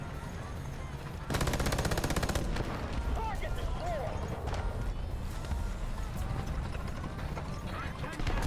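Machine gun fire from an American aircraft in War Thunder, a loud sustained rapid burst of shots that starts abruptly and runs on amid engine roar, with a voice talking over it.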